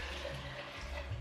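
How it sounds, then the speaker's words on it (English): Water pours steadily into a simmering cooking pot at home in rural Jamaica, a close, continuous splashing stream with no talk. "Just need to add a little bit more water to it"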